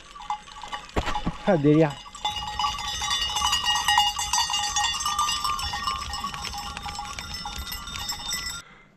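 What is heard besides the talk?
flock of sheep with bells passing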